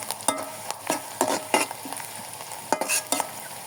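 Onions fry in a pan with a constant soft sizzle, broken by irregular scraping and clattering strokes as they are stirred, close and clear.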